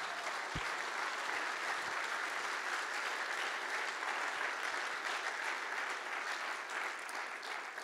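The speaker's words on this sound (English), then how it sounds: "Let's clap our hands to the Lord." A church congregation claps steadily during a Sunday morning service, a dense, even wash of hands filling the room without a break for several seconds.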